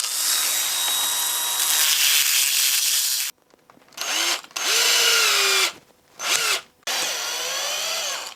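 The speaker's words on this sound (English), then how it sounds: "what I'm going to do is use this little honing stone and sharpen the edge of this" A small honing stone grinds against the edge of a stainless steel tube, a loud, bright abrasive rasp that runs steadily for about three seconds, then breaks into several separate rubbing strokes with short pauses between them.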